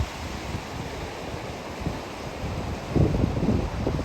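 The Lepsi River in Sarkand District, Kazakhstan, rushes past as a steady broadband rush of water mixed with wind noise on the microphone. It swells slightly louder toward the end, with no voices.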